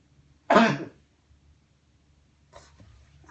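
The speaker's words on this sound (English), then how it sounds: "Excuse me, I'm gonna sneeze." A single sharp, loud sneeze bursts out close to the microphone during a board game unboxing, then dies away into near silence with faint rustling afterward.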